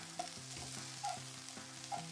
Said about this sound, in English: With our tongs, we're just going to move it around here.